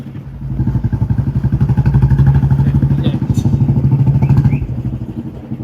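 A Royal Enfield Bullet motorcycle is ridden close by, its loud, deep single-cylinder engine thumping in a rapid, even beat that swells and holds steady throughout.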